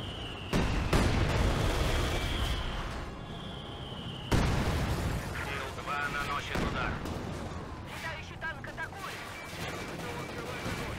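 Mortar fire and explosions in Company of Heroes 2, a Soviet mission at the Poznań citadel, with loud booming blasts at about 1 s and 4 s amid continuous gunfire and battle noise.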